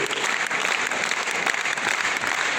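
Audience applauding at an Azerbaijani concert after a small ensemble of the Gara Garayev State Chamber Orchestra performs, with piano and nagara; dense, steady clapping from a sizeable crowd, loud and close, sustained throughout.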